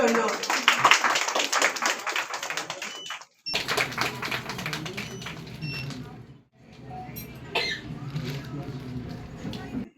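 Audience clapping for chief guests at a celebrity award show felicitation, a dense burst of applause that breaks off, resumes, and continues under background talk.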